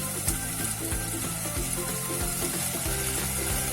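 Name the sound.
sliced onion frying in coconut oil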